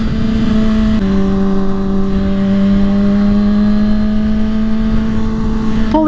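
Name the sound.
V6 Ford Mustang accelerating hard in city traffic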